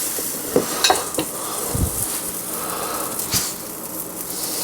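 Blueberry banana pancake batter sizzles steadily in a hot pan, a constant hiss with a few soft utensil clicks and scrapes on top, close and moderately loud, with no one talking.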